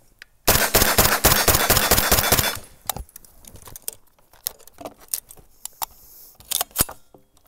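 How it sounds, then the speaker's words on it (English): A KUSA KP9 9mm direct-blowback carbine fires a loud, rapid burst of shots lasting about two seconds, followed by several sharp single shots spaced irregularly, with faint clinks between them. "we should probably shoot it because this is a very fun gun to shoot"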